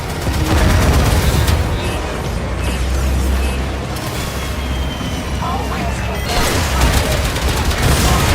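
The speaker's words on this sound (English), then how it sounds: "Torpedoes. Let's see them evade that." Torpedoes launch and slam into a ship in the Warframe video game, a dense, continuous roar of booming blasts and rapid gunfire-like impacts that stays loud throughout, with heavier bursts near the start and end.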